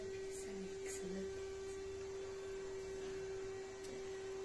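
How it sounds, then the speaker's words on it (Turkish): A vacuum cleaner runs somewhere nearby in a home, a faint, steady droning whine with a constant hum that holds through the whole stretch without a break. "Üzerinde şu süpürgenin sesi nedir?"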